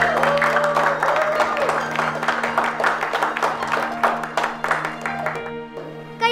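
A studio audience applauds a marawis group on an Indonesian TV show. A crowd claps rapidly over a steady held musical drone, and the clapping thins out toward the end.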